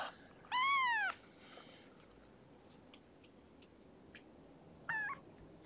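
A kitten gives two clear meows indoors, a longer one near the start and a shorter one near the end, with quiet background between and a few faint ticks.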